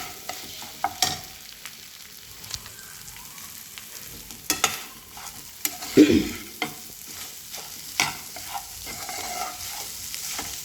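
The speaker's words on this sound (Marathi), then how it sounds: "हे बघा सारखं आपण हलवल्यामुळे काय होतं, खाली आपली भुर्जी बिलकुल लागत नाही" Egg bhurji made with butter frying in a pan, with a soft, steady sizzle beneath intermittent scraping and clinking strokes of a spatula as it is stirred up close.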